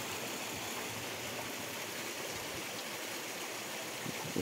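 Steady water rushes into the wheel channel of an old stone watermill in Asturias, a continuous even flow of moderate loudness with no voices.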